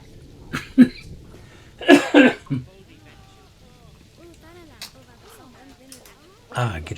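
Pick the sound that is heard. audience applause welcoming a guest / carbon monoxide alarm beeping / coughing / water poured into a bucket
coughing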